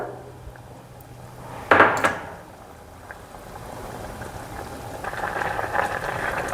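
A pot of vegetables bubbles and simmers steadily in tamarind water on the stove for sambar, with a brief clank of cookware early on, then the gentle boiling swells a little louder.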